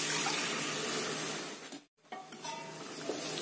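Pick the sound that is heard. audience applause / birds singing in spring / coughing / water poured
water poured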